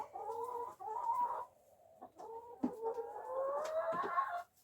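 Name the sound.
backyard chickens clucking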